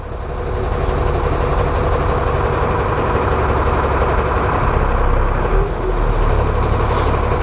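A heavy truck tractor engine idles steadily in low gear with a deep, constant rumble, close and loud throughout, without any talking.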